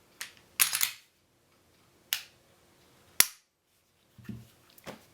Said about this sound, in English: As you notice, it does fire without a magazine as well.